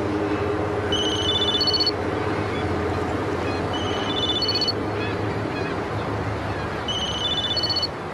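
A telephone rings in three electronic trilling bursts, spaced a couple of seconds apart, over a busy steady background rumble with no voices.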